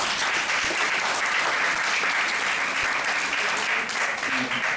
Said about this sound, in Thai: ขอเสียงปรบมือให้กับคณะครูทุกท่านด้วยครับ